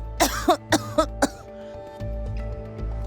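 A woman in her sixties coughs five times in quick succession, the bursts close and harsh, then a low steady background hum remains after she stops.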